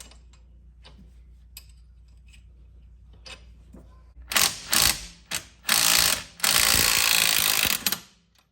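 A ratchet wrench working tight bolts loose on a wheel hub, with quiet scattered clicks at first and then several loud, close bursts of rapid ratcheting clicks separated by short pauses.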